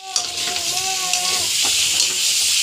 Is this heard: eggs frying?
yes